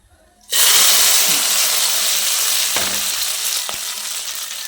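Shrimp fritters (ukoy) sizzle loudly in hot oil in a pan, a steady bright crackle that starts abruptly and runs throughout, with a couple of brief clatters of stirring.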